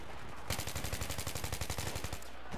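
Rapid automatic gunfire in Battlefield 3 during a team deathmatch, a steady burst of sharp, evenly spaced shots lasting about two seconds, loud and close with no talk over it.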